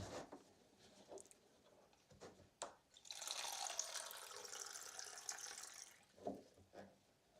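Water pours steadily from about three to six seconds, a bright splashing stream that stops abruptly, with quieter drips and handling sounds before and after and no talk.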